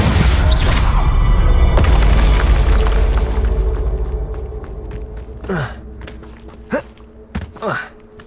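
Heavy explosion spells like Bombarda and Confringo boom in Hogwarts Legacy, a loud rumbling blast that slowly fades, followed by several sharp magical whooshes and impacts.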